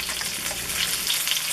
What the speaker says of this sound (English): Okay, the meatballs are frying up.